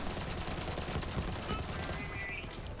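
SMG fire in the video game Borderlands 3, a quick rattling burst pattern of rapid shots running continuously at low volume under game ambience, fairly faint throughout.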